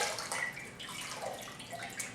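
Water scooped from a sink and splashed onto the face during washing, a close series of soft wet slaps, trickles and drips in uneven bursts, quiet and alone.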